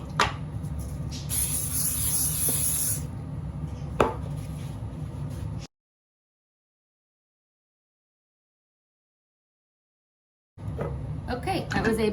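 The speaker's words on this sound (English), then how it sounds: "Use some non-stick spray on the bottom first." A short pressurized hiss of non-stick cooking spray bursts into an air fryer basket for a couple of seconds amid kitchen clatter, then the sound cuts to silence before resuming.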